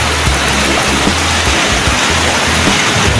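Heavy rain pouring down during a storm near rising floodwater, a loud, steady broadband hiss and splashing with a low rumble underneath, continuous and close.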